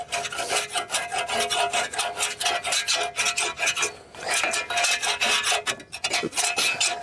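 A tool scrapes the chute guard of a zero-turn mower deck in steady, rapid rasping strokes, close and continuous with brief pauses and no talking.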